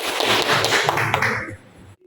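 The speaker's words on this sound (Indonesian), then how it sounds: "Saya kira tepuk tangan itu wajib kita berikan." Applause from an audience at an organizational meeting, a dense patter of many hands clapping loudly for about a second and a half before thinning out and stopping.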